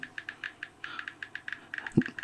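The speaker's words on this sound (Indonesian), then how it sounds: "tapi ketika kita ngetik chattingan itu bunyinya mendadak besar suara keyboardnya" On an iPhone running iOS 17.4, someone types on the touchscreen keyboard and each key press gives a sharp click. The clicks come in an uneven rhythm, and some land in quick bursts. They are close and fairly loud against a quiet room, and one soft thump joins in near the end.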